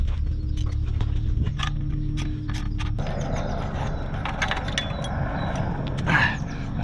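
A wrench works loose a dirty exhaust clamp bolt on a Triumph Street Triple 765R, giving close, repeated metallic ratcheting clicks and scrapes in short bursts.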